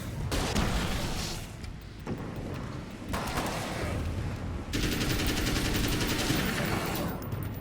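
A big gun firing in the video game Alan Wake's American Nightmare, dense, continuous booming bursts that blend into a loud, rolling wall of gunfire with brief dips between volleys.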